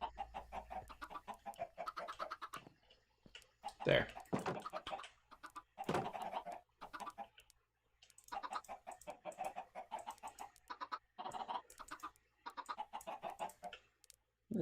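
Chickens in Minecraft cluck again and again in short, busy bursts, close and fairly loud, with a single brief spoken word among them.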